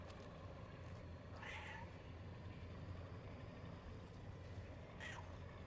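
A cat gives two or three short meows inside a game, faint and spaced apart, over a constant low rumbling background of engine-like noise.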